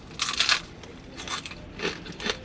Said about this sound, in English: I'm eating like the side of that gill.